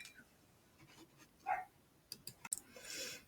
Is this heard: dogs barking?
yes